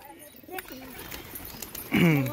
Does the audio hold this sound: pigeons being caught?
yes